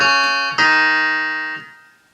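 Keyboard plays a riff, striking a low note and then the same note an octave higher slightly after it, sustained tones that fade out alone with no voice.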